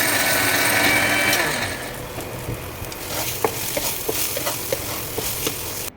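Ingredients for vangi bath sauté in a pan, a steady frying hiss with scattered stirring clicks and scrapes that quiets slightly after the first couple of seconds.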